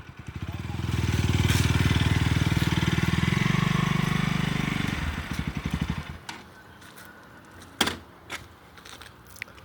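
A KTM Duke 200 motorcycle rolls up close with a loud, throbbing single-cylinder engine note that idles and then cuts off after about five seconds, leaving quiet handling noises and a sharp clack.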